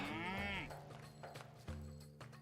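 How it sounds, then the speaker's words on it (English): Cattle in the video game Age of Mythology let out a couple of close, drawn-out moos, with an overlapping bovine call following the first. "Also cows."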